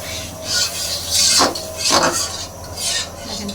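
Hand-ground spice paste is stirred and fried in a pan, giving rhythmic rasping scrapes of a spatula against the metal, each stroke swelling and fading over a low sizzling hiss.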